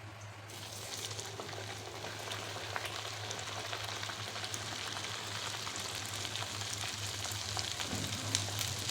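Pumpkin puris for a fasting meal frying in hot oil, a steady close sizzle and crackle that builds slightly as the dough hits the oil, with a low hum underneath.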